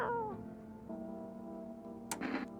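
Cat being petted in the No I'm Not a Human video game, a short descending meow at the start followed by a quieter drawn-out murmur and a brief rough chirp near the end, close and fairly soft.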